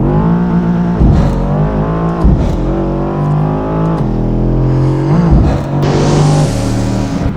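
A Mercedes S63 AMG accelerating hard, loud and close from inside the car, its engine note climbing steeply through several gears with brief dips at each shift, and no talking.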